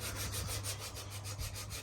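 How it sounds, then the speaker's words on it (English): Steady fine hand sanding of primed custom A-pillar pods, a soft continuous scratchy rubbing with a gentle back-and-forth rhythm, close by and with no talking. "And here we got Deb doing some of the fine sanding on one."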